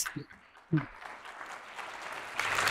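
An audience at a Partito Democratico party congress breaks into applause, first a couple of isolated claps and brief voices, then a swelling wash of clapping that grows louder toward the end.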